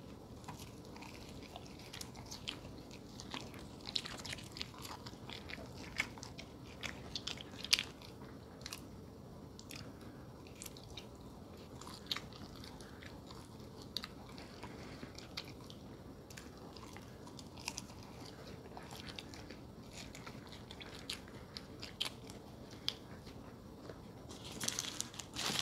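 Close, crisp biting and wet chewing of a Culver's cheeseburger in an ASMR mukbang, with irregular crunchy bites and soft squishy mastication sounds spread across a quiet background.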